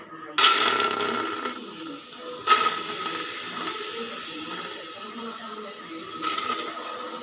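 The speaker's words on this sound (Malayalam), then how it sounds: "കുക്കർ ചൂടായിട്ടുണ്ട്, അതാണ് അതിൻ്റെ ആ സൗണ്ട്." A pressure cooker heating on the stove with washed clam meat inside gives off a steady steam hiss with a faint tonal whistle, rising in two brief louder bursts near the start and swelling again near the end.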